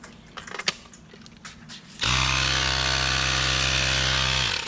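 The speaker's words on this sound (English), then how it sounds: "today I got the Ryobi power inflator. So this thing is ran off an 18 volt battery." Ryobi 18 volt cordless power inflator starting up after a few clicks and handling noises, then a loud steady motor buzz with a strong low hum that runs without pause.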